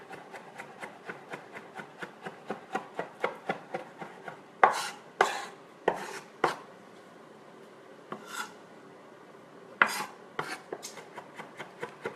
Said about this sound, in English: we'll be mincing our garlic here